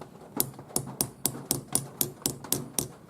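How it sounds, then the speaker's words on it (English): A chasing hammer taps steel around the bezel of a turquoise nugget ring: about nine crisp, evenly spaced metallic strikes, close and distinct, with no talk. "I use the chasing hammer, and I just tap around the top edge of the stone"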